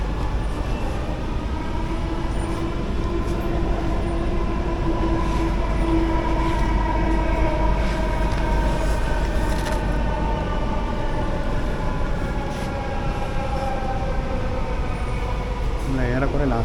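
An Alstom-built Kochi Metro train runs along the line from Ernakulam South toward Aluva, with a steady close rumble and rising and falling motor tones lasting throughout, plus a brief squeal near the end.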